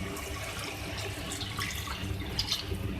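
Water is poured from a glass into a cooking pot of cauliflower and meat curry spiced with cloves, a continuous close splashing gurgle lasting a few seconds with no voices.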